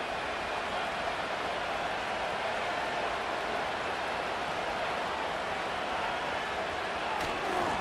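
Stadium crowd in the video game Madden 25 during a simulated NFL football game, a dense, constant roar of the crowd with no pauses, heard alone.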